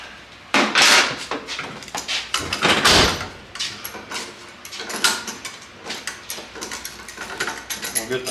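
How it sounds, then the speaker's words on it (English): Metallic clicking and scraping from tools working a broken bolt on a 1979 Pontiac Bonneville, close and irregular, with repeated ratchet-like clatter and knocks throughout. "Now let's deal with extracting this broken bolt."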